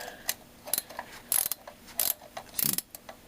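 Ratchet wrench loosening bolts on an OHV engine being torn down, with short bursts of rapid pawl clicking repeated several times, close and fairly clear with brief pauses between strokes.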